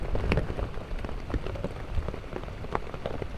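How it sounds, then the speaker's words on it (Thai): Steady rain patters onto a surface, a dense, continuous hiss with scattered louder drops, close and alone with no voices. "ฝนกำลังซาซาเนี่ยแหละละจ้ะ"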